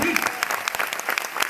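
Loud, close applause from a seminar audience, brisk crowded clapping over a short burst, with a voice faintly present underneath.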